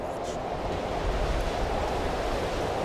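Steady, rushing wind in Fallout 3's Operation: Anchorage blows without a break, a broad roaring hiss heavy in the low end, with no voices.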